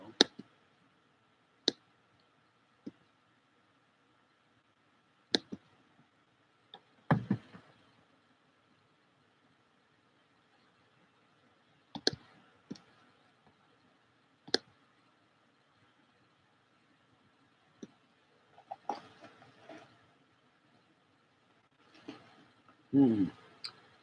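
A keyboard clicks in sparse, irregular keystrokes, single sharp taps and a few short bursts separated by long quiet gaps, recorded close and fairly faint.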